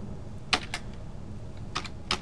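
A file name is typed on a computer keyboard: a few sparse, quiet key taps spaced irregularly over a couple of seconds against a low background hum.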